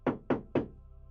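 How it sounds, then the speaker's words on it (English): Three firm knocks strike a cell door in a quick, even sequence, each a solid thud with a short decay, close and alone before quiet. "and you hear a knock on the cell."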